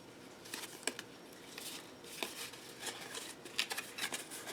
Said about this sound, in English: And then just peel off the protective backing.